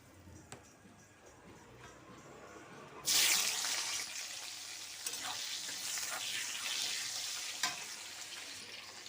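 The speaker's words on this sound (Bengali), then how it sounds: "ফুলকপিটা ভাজা হয়ে গেছে" Cauliflower hits hot mustard oil seasoned with turmeric and salt in a wok, setting off a sudden loud sizzle that settles into steady frying crackle with occasional stirring clinks.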